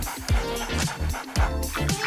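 A dog gives short, excited yips and whimpering barks close by, several in quick succession over a dense, busy background.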